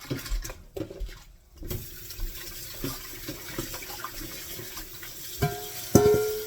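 Peeled shrimp are rinsed under a running kitchen tap, a low continuous water flow with scattered splashes and a couple of louder knocks near the end, no voices.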